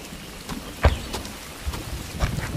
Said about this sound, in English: What do you know? It's raining.